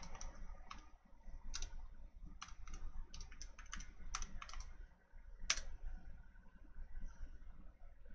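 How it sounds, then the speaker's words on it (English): Typing on a computer keyboard, with quiet, irregular key clicks tapping out a short command at a steady pace over a faint background hum, close and soft. "type in the following."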